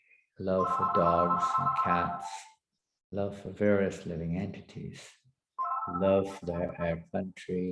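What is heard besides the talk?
phone ringing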